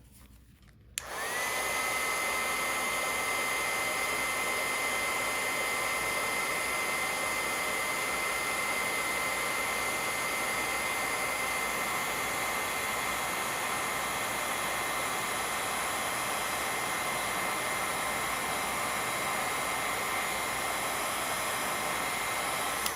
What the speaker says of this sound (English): Grab my heat tool and heat set.